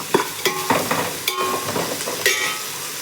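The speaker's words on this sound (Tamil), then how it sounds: "இது நல்லா ஃப்ரை ஆகட்டும் கோல்டன் ப்ரௌன் கலரில்" Onions frying in a pan with oil for pulao, sizzling steadily while a utensil stirs and scrapes through them in several distinct strokes, close and fairly loud with no talking.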